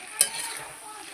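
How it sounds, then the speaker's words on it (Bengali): Chicken pieces for a homestyle Bengali chicken curry with potatoes are stirred and fried in a pan, giving a soft sizzle with a sharp scrape of the spoon near the start. The sound stays quiet and close throughout. "তো চলো আমি মাংসটাকে ভালো করে কষে নিই"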